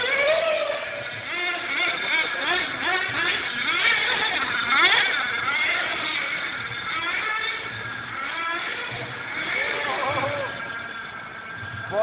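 A Hong Nor X2 RC car's small engine keeps revving steadily on an offroad track, its high buzzing pitch rising and falling, with a person talking over it throughout.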